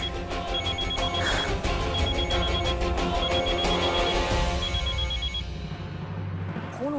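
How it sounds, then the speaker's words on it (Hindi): A telephone rings repeatedly in an electronic tone, sounding over background music that fades toward the end. "जरूर विशु जी का फोन होगा"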